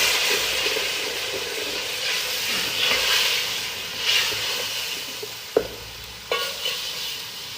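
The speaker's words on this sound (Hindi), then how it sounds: "अब हम इसके अंदर डालेंगे अपना टमाटर, इसको फ्राई करेंगे" Tomato frying with onion, garlic and ginger for mutton qeema, a loud hissing sizzle that swells and fades with stirring, punctuated by a few sharp utensil knocks near the end.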